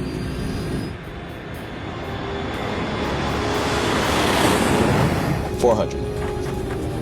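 Jet engines of a Sriwijaya Air airliner roaring just after liftoff, a broad steady rumble swelling over several seconds, with voices talking over it.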